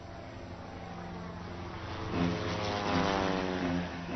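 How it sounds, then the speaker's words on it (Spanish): Navy propeller warplanes from a squadron of thirty flying over the Casa Rosada in a 1955 bombing, a steady droning engine roar that swells louder as the aircraft pass overhead, with no voices. "una escuadra de 30 aviones de la Marina de Guerra y la Aeronáutica bombardea la Casa Rosada"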